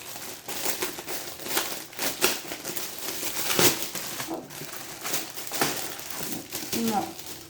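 A glued plastic packet from a diamond painting kit is pulled open, giving steady crinkling and crackling rustles throughout, close and fairly loud.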